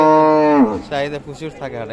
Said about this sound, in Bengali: এই পাশে একটা দেখছি গাভী